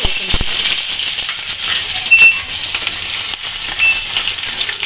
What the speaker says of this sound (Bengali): প্রথমে দুটো শুকনো লঙ্কা দিলাম আর দেব কালো জিরে আর এক চামচ